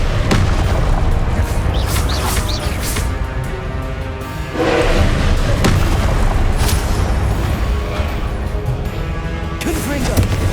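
Confringo blasting spells in Hogwarts Legacy explode in repeated booming blasts and crashes during a magical duel, loud and up close, mixed with spell effects and shouting voices.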